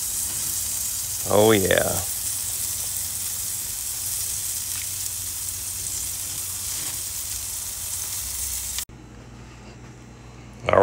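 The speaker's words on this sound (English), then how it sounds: "Now I'm gonna sizzle that fat on that one side." Fat on a bone-in ribeye steak sizzles on a grill with a steady, close hiss, briefly interrupted by a short exclamation from a man before the crackle continues and then cuts off near the end.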